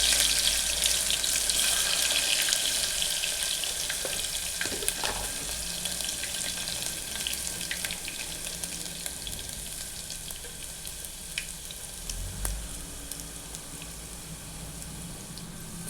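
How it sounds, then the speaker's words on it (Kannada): Mustard seeds, cumin and garlic sizzle in hot oil for a tadka, a continuous bright crackling hiss that fades slowly, with a few faint clinks and stirring sounds and no speech. "ಸಾಸಿವೆ ಜೀರಿಗೆ ಹಾಕಿ ನೋಡ್ರಿ ಈಗ ಒಂದಿಷ್ಟು ಬೆಳ್ಳುಳ್ಳಿ ಹಾಕೋತೀನಿ ರೀ"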